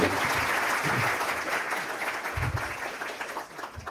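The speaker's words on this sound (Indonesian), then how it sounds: "Boleh dikasih tepuk tangan buat rektor." A campus audience claps for the university rector, a dense and fairly loud wash of applause that holds steady for several seconds and starts to thin toward the end.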